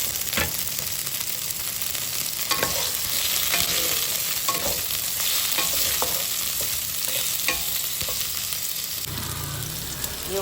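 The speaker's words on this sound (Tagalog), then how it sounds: "Ilagay ko na yung kamatis." Tomatoes go into a hot pan and fry with a steady, broadband sizzle, while a utensil scrapes and stirs them in repeated clinks and scrapes across the whole stretch, fairly close and loud, with no talking.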